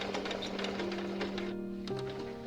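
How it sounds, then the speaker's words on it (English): A sewing machine stitches binding around a quilt, giving a rapid, even mechanical chatter close up that stops briefly and then starts again near the end. "And then I continue stitching all the way around the quilt."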